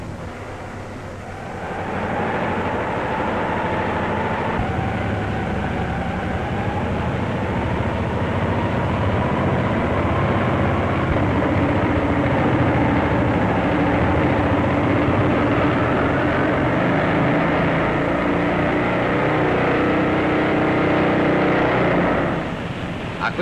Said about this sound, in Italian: Così la potenza alla ruota di questa motocicletta viene rilevata al freno dinamometrico.